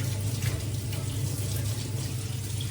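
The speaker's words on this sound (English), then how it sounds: "water, kind of lightly be running, and you're just gonna rinse it" Tap water runs lightly in a kitchen sink while canned beans and corn are rinsed in a strainer, a steady close hiss of flowing water with no speech.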